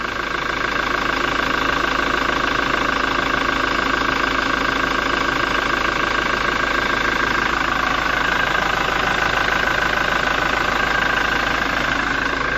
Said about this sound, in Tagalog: Perfect diesel sound